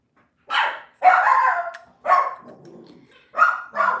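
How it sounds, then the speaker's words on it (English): A dog barks close by in a quiet room, five loud sharp barks in an uneven rhythm with short gaps and a low whimper between them, and no talk over it. "my doggy is doing a lot of barking today"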